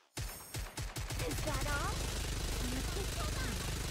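Rain's machine gun in the game Goddess of Victory opens with a few spaced, punchy shots, then breaks into sustained rapid fire, a loud, dense rattle with wavering tonal sounds layered over it.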